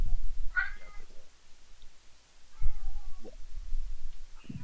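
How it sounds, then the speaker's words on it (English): A cat meows several times to be let in, clear and fairly close, with short pauses between the calls and quiet background in between. "So the Pran Funkels cat wants to come in,"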